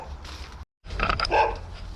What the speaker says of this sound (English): The dog's out there, it usually barks.